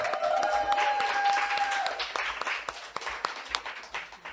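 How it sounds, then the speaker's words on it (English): Audience applause at a live comedy show, a dense wash of clapping that starts full and thins out into scattered claps toward the end. "let's give Seth another round of applause."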